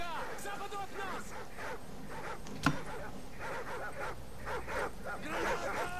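Dog barking and attacking in Call of Duty 4: Modern Warfare, brief yips and growls mixed with game sounds and a sharp impact, heard under steady talk from players throughout.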